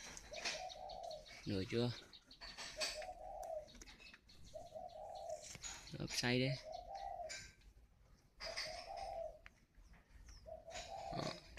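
Spotted dove cooing while brooding on its nest, repeated soft low coos in phrases recurring every second or two, close by, with people speaking intermittently between and over the calls.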